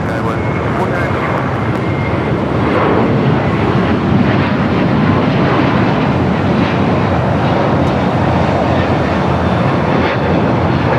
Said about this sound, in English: Now let's go to the Hawaiian A321 Neo.